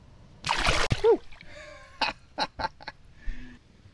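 A large fish caught from heavy cover is released back into the water, making one short, loud splash near the start. Sharp, bird-like calls and clicks follow against a quiet background.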